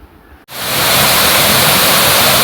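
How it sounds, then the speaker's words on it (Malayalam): A sudden roar of rushing water gushing through a shutter of Kachithodu Dam starts after a brief quiet and holds steady, loud and close. "ഷട്ടറിലൂടെ വെള്ളം പുറത്തേക്ക് പോകുന്നത് കാണാം."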